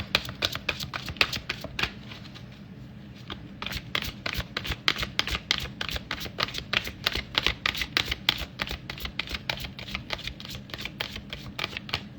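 Tarot cards are shuffled by hand in a quick, sloppy riffle, a continuous close run of crisp flicking and snapping with only a brief lull.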